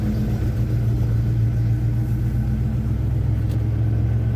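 A 1984 Chevy C10 pickup with a 350 V8 drives steadily, its engine a loud, constant low rumble with a droning cabin hum and no break or rev change throughout.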